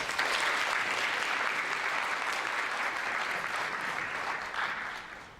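A university symposium audience gives a sustained round of applause for student representatives: dense, steady clapping from a large crowd that holds evenly for about five seconds, swells briefly near the end, then begins to fade.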